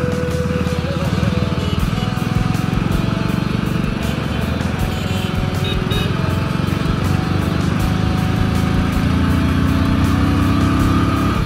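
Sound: Hero Splendor BS4 motorcycle engine while riding

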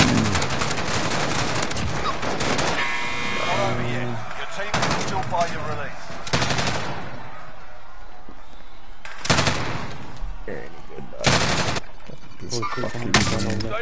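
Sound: gunfire and sniper shot in Warzone video game

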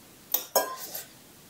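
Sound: beating eggs in a bowl for Indomie

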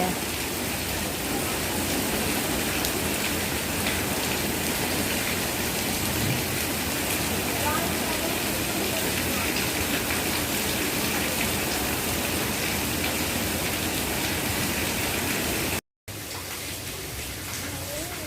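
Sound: heavy rain

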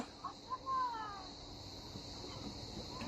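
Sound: cat meowing

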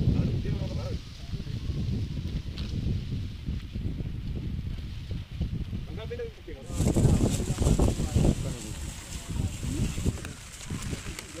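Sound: strong wind blowing by flooded river

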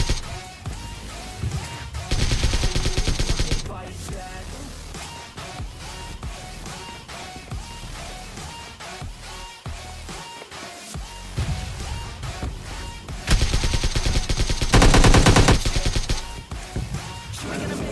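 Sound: gunfire in video game PUBG Lite

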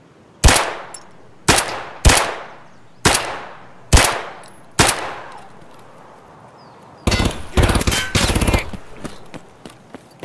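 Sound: gunfire

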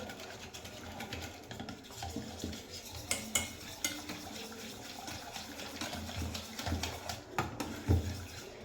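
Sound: mixing curd (yogurt) for kadhi in a bowl

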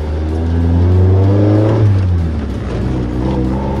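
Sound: Toyota AE86 Trueno high-cam engine revving, intake sound

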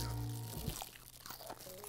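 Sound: crunch of biting crispy fried chicken skin

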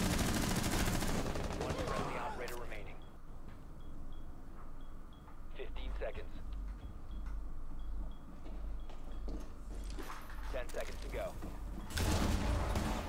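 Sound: gunfire in a shooter video game

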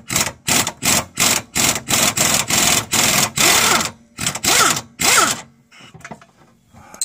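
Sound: impact wrench on Honda Accord sway bar link

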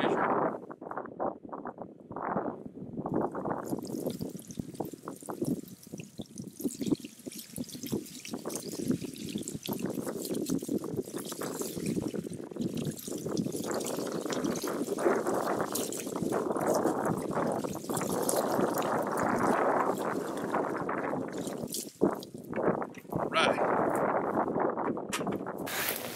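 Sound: pouring leftover water

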